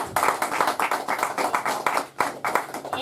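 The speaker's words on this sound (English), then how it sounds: "So how about a big round of applause for NBR TV?" An audience at a McCreary County judge-executive debate gives a round of applause. Dense, close hand clapping pulses steadily throughout, briefly dipping once before picking back up.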